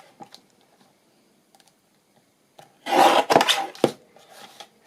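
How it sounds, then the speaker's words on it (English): A Christmas gift tag being trimmed by hand: a short, close burst of rasping paper-cutting sounds, a couple of quick strokes in quiet surroundings with no talking. "trim that little bit off there"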